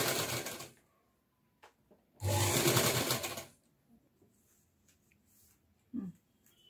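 A sewing machine stitches fine pleats into a cotton frock lining, with two loud bursts of running stitching separated by quiet pauses, close and clear.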